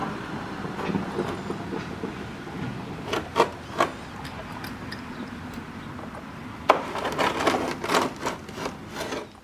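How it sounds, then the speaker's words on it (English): A pry bar and hammer work a wooden window backstop loose from its frame: steady scraping and creaking of wood with several sharp knocks and cracks, the loudest bursts coming near the end. "And then I'll just pry it off with a pry bar and hammer."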